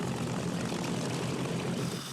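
Vintage propeller warplanes, including a B-25 bomber and P-51 Mustangs, roar overhead at Arlington National Cemetery, producing a loud, steady, dense engine drone with no talking.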